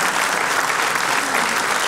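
Audience applause at a stand-up comedy show in a club, a dense steady clapping crowd that fills the short stretch at even loudness with no voices over it.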